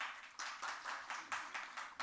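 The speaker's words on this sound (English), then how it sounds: "Big round of applause to sir." Audience at a defence and aerospace summit clapping for a speaker: soft, steady rhythmic claps repeating in a quiet, even pulse, heard faintly from a distance.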